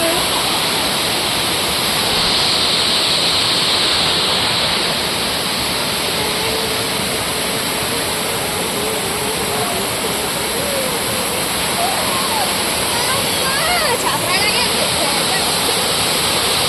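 The Vaikunta Giri waterfall near Kasipatnam pours in a steady, full roar of rushing water that holds unchanged throughout, close and loud, with faint voices now and then beneath it.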